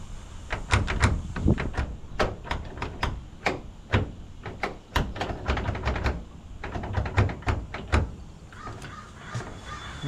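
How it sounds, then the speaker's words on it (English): Someone works at the door of a 1978 Dodge D300 truck parked over 40 years, yanking the stuck door and unlock knob with Slim Jims, giving a dense run of sharp metallic clicks, clacks and rattles close up. "Let's get this door open"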